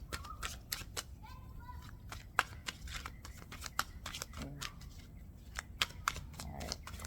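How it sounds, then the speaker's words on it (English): Tarot cards shuffled in repeated quick riffles and snaps, with sharp papery flicks scattered across the whole stretch and brief bits of speech in between. "And I do a lot of shuffling, y'all"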